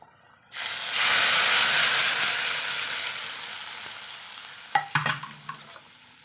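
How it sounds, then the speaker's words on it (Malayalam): Curry leaves and sliced shallots hit hot oil for a sardine curry, bursting into a loud, sustained sizzle that slowly fades, followed by a few stirring clinks and crackles near the end. "കറിവേപ്പില ഇട്ട് കൊടുക്കാം."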